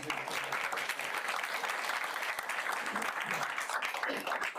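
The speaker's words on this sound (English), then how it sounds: "My first round of applause goes to the board for choosing." Audience at a school board meeting applauds the board, a steady, moderately loud round of clapping from a room of people that holds evenly for several seconds.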